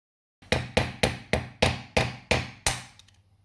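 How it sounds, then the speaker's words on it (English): Eight sharp metallic strikes of a hammer on a chisel, knocking an old oil seal ring off a VW T3 / T25 / Vanagon front wheel hub. The blows fall in a steady rhythm, loud and close, with no talk. "I should be able to use a chisel to get it off"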